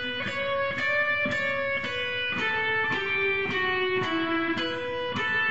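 Guitar playing a melodic passage from Canon in D, measure 14: a steady run of single plucked notes, roughly two per second, each ringing with clear overtones and stepping downward in pitch, close and alone without talk.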